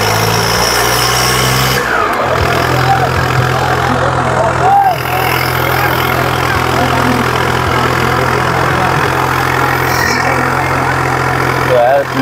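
A John Deere tractor engine labors steadily at a tochan pulling contest, a loud sustained low drone running close and unbroken for the whole stretch under constant crowd noise and excited commentary.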